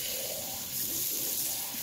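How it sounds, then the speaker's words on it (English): Tap water runs steadily while a sublimation ink bottle for an Epson EcoTank 4760 printer is rinsed out, a continuous close splashing flow over a sink with no talking. "And now I'm rinsing the top out."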